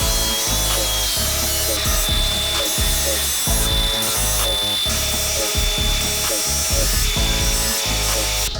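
An angle grinder with a badly worn flap disc grinds a steel knife blade, a loud continuous whine with repeated bursts of harsh scraping and chatter as the disc bites and lifts, close up with no talk.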